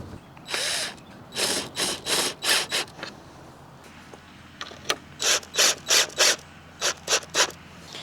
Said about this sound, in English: I'm going to get a couple screws started